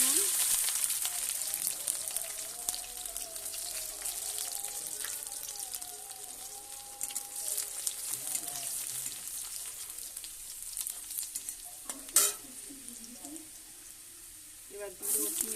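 Black cumin and garlic sizzle and crackle in hot oil in a pan for a pumpkin-leaf bharta, a steady bright hiss with occasional stirring clatter and a few louder pops.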